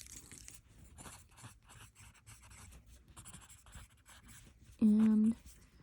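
A pen writes on paper in short close scratchy strokes with small pauses, fairly quiet, cut off near the end by a brief loud steady tone.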